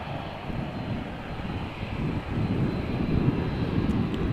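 A Boeing 787 Dreamliner arriving from Cartagena and taxiing in at Amsterdam Schiphol Airport: a steady, broad jet-engine roar, moderately loud and continuous, swelling slightly toward the end with no voices.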